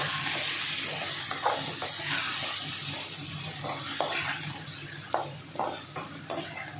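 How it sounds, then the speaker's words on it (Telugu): Carrot and tomato pieces frying in a pan for biryani, stirred with a spoon: a steady sizzle runs beneath repeated scraping strokes that grow sharper and more distinct toward the end, with no voices. "మొత్తం అంతా కలిసేలాగా నేను తిప్పుతున్నానండి"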